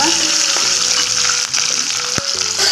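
Urad dal, green chillies and garlic fry in hot oil, giving a loud, dense sizzle with a few stirring scrapes and knocks, close and steady throughout without any talk.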